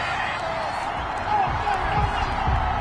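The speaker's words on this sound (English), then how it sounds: "Well, the crowd doesn't like that." A football stadium crowd reacts with loud, sustained booing and murmuring after a penalty flag on third down, a broad rumbling roar that swells toward the end, heard alongside a commentator's voice.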